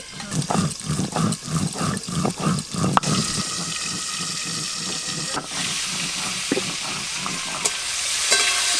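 Potatoes and pointed gourd sizzling in a pan, with a quick run of rhythmic stirring scrapes at first, then a steadier frying hiss with occasional clinks.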